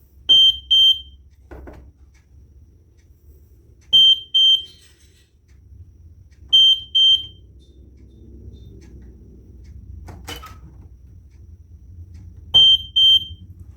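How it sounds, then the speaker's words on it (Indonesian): An Arduino vibration sensor alarm's buzzer sounds in five short bursts of loud, high-pitched beeping spaced a few seconds apart, with faint handling knocks and room noise between them. "apakah dia akan memberikan suatu tanda, suatu alarm ketika ada getaran di sekitarnya seperti ini"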